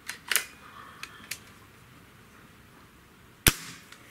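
A single sharp crack from a .30 caliber spring air rifle, a Gamo Swarm Magnum or Hatsan 135, rings out loud and close, followed by a brief decay and a faint click.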